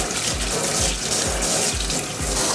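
Tap water runs steadily into a kitchen sink while cod is washed, a close, continuous splashing rush with faint rhythmic low thumps underneath and no talking.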